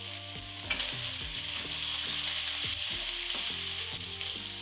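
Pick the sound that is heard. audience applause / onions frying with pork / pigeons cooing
onions frying with pork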